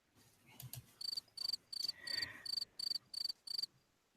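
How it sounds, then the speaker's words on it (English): A crickets-chirping sound effect plays as eight evenly spaced bursts of bright, trilling chirps, clear and fairly loud against a quiet background, with no talking. "Crickets."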